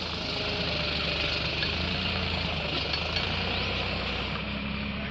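A Farmtrac 60 Powermax tractor engine runs at a steady, throbbing diesel drone, close and constant throughout with no talking.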